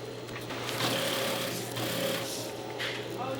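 An industrial sewing machine stitches Velcro onto military name tapes in a factory at Fort Knox, giving a steady, close mechanical whir that runs without pause under a low background hum.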